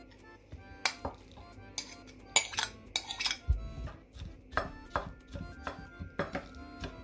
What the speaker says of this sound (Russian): мякоть мелко порубим